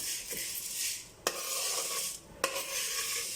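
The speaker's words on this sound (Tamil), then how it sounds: "இப்போ இது கூடவே நம்ம எடுத்து வச்சுருக்க சீரகம் ஆட் பண்ணிக்கலாம். சீரகமாக ஃப்ரை ஆகட்டும்." Cumin seeds frying in a pan with chana dal and urad dal, a continuous close sizzle and rasp broken by two sharp metallic scrapes of a spoon.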